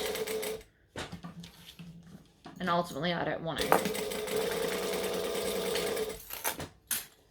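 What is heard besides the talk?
sewing machine stitching over zipper teeth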